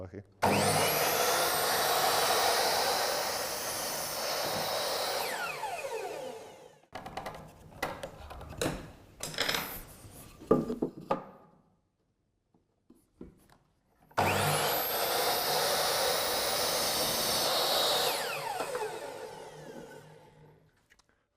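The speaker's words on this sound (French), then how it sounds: "Je fais cela avec une scie à onglet," A miter saw whines loudly through a long cut in wood, goes quiet amid scattered knocks and handling clatter, then screams through a second sustained cut.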